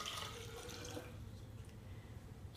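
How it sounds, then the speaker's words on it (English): Water poured out of a measuring container gives a faint, steady splashing and trickling, like a sink draining, with a brief louder bump at the very end. "I'm going to pour that out."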